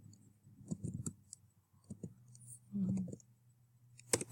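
Scattered keyboard keystrokes tapped in short clusters of quick clicks with pauses between, close and fairly quiet, over a low steady hum.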